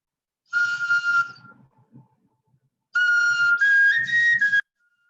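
A carved wooden whistle flute with finger holes plays clear, breathy notes: one held tone, a pause, then a second phrase of several stepped pitches rising slightly, close and alone.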